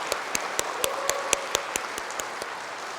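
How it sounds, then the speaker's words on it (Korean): A church congregation applauds the Hosanna praise team during a Sunday second service, with distinct, evenly spaced claps standing out above a steady wash of softer clapping in a reverberant hall. "우리 한번 박수로 격려하겠습니다"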